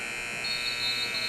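Basketball halftime buzzer sounding in a high-school gym, a steady loud electronic drone held for over a second, with no talk over it.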